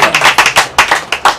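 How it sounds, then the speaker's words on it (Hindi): A church congregation claps hands in praise during worship, producing about a dozen loud, close, sharp claps in a quick, slightly uneven rhythm. "ताली बजाकर परमेश्वर के नाम की स्तुति करेंगे।"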